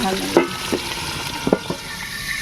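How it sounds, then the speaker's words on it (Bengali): River tangra fish fry in oil under a lid, giving a soft continuous sizzle with a few distinct spattering pops and knocks, close by and without talking. "আমি ঢাকনা দিয়ে ভাজবো কেননা এই মাছগুলো একটু তেল থেকে ঠিকরে ওঠে"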